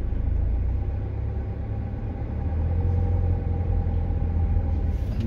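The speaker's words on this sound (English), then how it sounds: "I'm going to reverse out" A car engine rumbles low and steady from inside the vehicle as it reverses out of a parking bay during driving practice from a Stafford test centre, with no talk over it.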